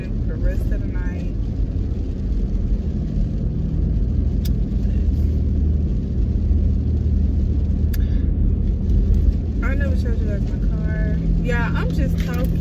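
A new car driving in rain is heard from inside the cabin as a steady, heavy low rumble of road and engine noise, with occasional brief voices faintly above it.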